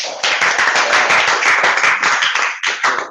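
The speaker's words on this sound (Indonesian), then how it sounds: "Beri aplaus dulu untuk teman-teman." Students in a classroom burst into applause, a close, loud, dense patter of many hands clapping that holds steady for a few seconds and then breaks off at the end.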